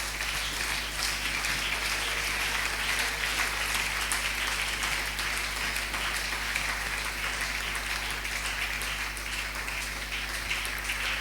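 A church congregation applauds steadily during a Sunday worship service, a dense, continuous wash of clapping from many hands that holds at an even level throughout without pause.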